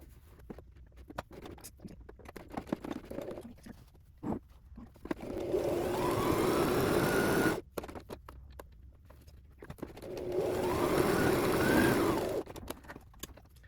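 Sewing machine running an overlocking stitch with a regular presser foot while sewing a jacket, two sustained bursts of motor whir each lasting a couple of seconds, separated by quiet handling clicks and fabric shuffling.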